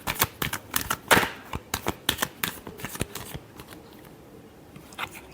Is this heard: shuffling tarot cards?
yes